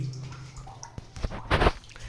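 A few scattered water drips and splashes in a quiet, echoing cave, irregular and close.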